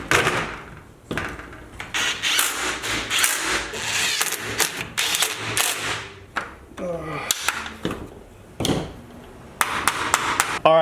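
Grill mounting brackets are hammered onto a Silverado crossbar, a series of sharp, close metallic knocks in irregular bursts with short pauses between.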